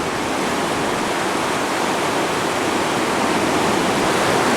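Floodwater rushes fast past a campground, a dense, continuous roar of churning water that stays loud and steady throughout, with no voices.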